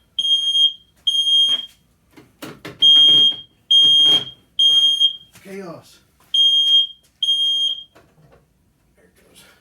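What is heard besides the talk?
smoke alarm beeping in garage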